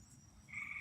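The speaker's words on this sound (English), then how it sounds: "Them frogs getting louder and louder." Frogs croak at night, a faint low chorus rising into a louder, sustained croak near the end of the brief moment, with no voices.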